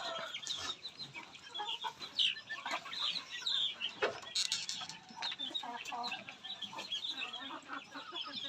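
Free-range village chickens, about 95 birds kept on a small plot of land, cluck and chatter in an irregular, lively flock close by, with faint talking in the background.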